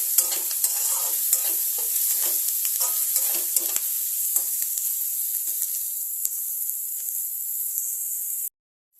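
Green chilli paste frying in a pan for an egg fry curry: a bright continuous sizzle with rhythmic stirring scrapes at first, settling into plain hissing before cutting off abruptly near the end; no speech.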